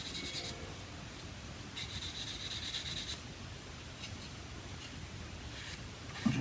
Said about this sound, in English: just using a very light grit sander